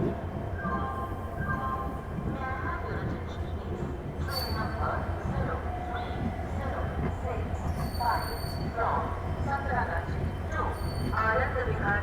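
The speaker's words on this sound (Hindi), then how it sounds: "अपनी अमृत भारत एक्सप्रेस पहुंच चुकी है पश्चिम बंगाल से झारखंड में एंटर कर चुकी है" Amrit Bharat Express train on the Howrah to Delhi route, heard from inside a sleeper class coach: a steady rumble of wheels on rail with clacks and brief squeals, and voices talking over it.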